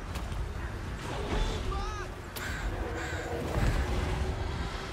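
Crow cawing in the Total War: Warhammer 2 video game, a few harsh calls heard over a busy battle soundscape with background ambience.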